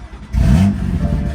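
A car with an aftermarket exhaust cranks and fires up, then gives a quick, loud rev that settles into a rumbling idle, close by.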